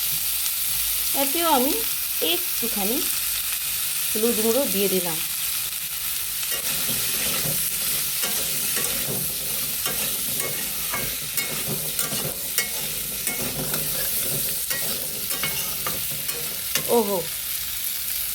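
Potatoes frying in a pan for a vegetarian soybean curry with ginger and turmeric, a steady close sizzle with stirring scrapes throughout, while someone speaks briefly over it near the start and again near the end.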